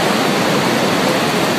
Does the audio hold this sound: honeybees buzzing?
no